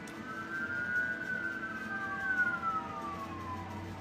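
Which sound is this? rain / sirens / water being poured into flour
sirens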